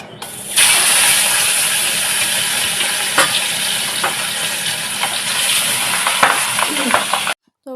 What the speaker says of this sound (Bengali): এই যে মাছ ভাজা বসিয়ে দিয়েছি